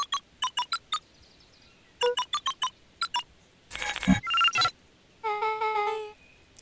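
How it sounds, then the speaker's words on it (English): Keypad tones from a phone booth sound as letters are entered: groups of short, evenly spaced electronic beeps, then a burst of noisy clicks and a sustained chiming ring-like tone near the end. "entered the letters into the keypad"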